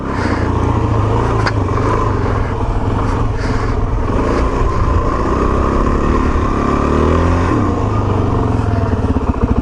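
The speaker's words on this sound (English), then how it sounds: "Oh, you feel that tire slipping around." A car engine revs loudly and continuously while the vehicle turns on a slippery surface in cold conditions, tires losing grip, the strained motor drone filling the whole stretch up close.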